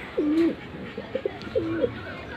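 Madrasi Kaldum pigeons at a loft in Kolkata give three soft, low coos in a short burst, each a drawn-out rolling note, heard close against a faint background hiss.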